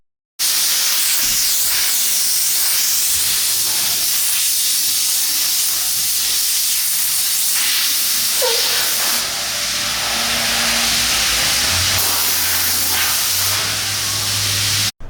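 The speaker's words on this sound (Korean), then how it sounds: "물 뿌리고 폼건 뿌리고 다시 물 뿌려서 없애고 그리고 수건과 에어건으로 말리고" A Mazda MX-5 gets a car wash as a pressure water sprayer and foam gun hiss loudly and continuously up close, with a low engine-like hum entering near the end and no voices.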